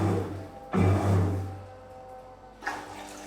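Water rushes and gurgles into a household appliance just after it is switched on, starting with a surge and tapering off beneath a low motor hum, with a second small splash near the end.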